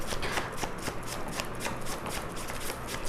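Tarot cards are shuffled by hand in quick, rapid riffles close to the listener. The crisp fluttering bursts repeat in a steady rhythm, and no one speaks.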